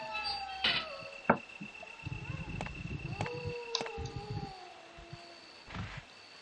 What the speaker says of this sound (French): Et on réentend ce chien qui me fait chier depuis le début du let's play.